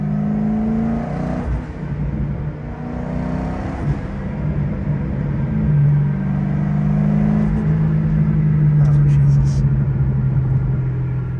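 A Chevrolet Corvette C6 engine drones and rumbles while driving, rising and falling in pitch as it revs. A voice speaks faintly beneath the steady engine noise.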